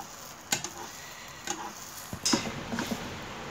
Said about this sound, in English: You put your egg, your bread, into the pan.